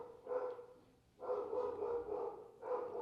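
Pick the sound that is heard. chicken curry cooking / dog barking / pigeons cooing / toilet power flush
dog barking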